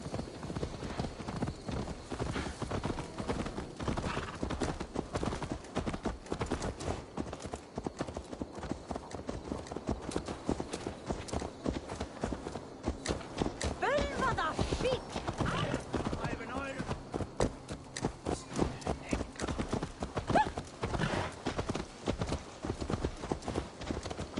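Horse hooves clip-clop in a steady, rapid rhythm throughout in Assassin's Creed Valhalla, close and clear, with a voice speaking now and then over them.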